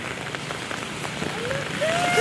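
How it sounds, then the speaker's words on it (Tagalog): Steady heavy rain hissing on surfaces with a constant rush of wind, a faint tone rising near the end. "Ang lamig, ang lakas ng hangin, ang lakas ng ulan."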